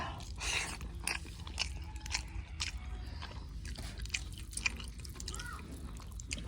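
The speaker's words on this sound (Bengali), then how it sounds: "দুপুরে খাবার খাইতে বসলাম আগে একটু বেগুন ভাজা লই" Close, steady chewing of fried eggplant with soft wet bites and occasional crunches, continuing without any talking.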